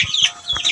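A Bangkok fighting chicken gives a few quick, close, sharp clucks and squawks in a short burst.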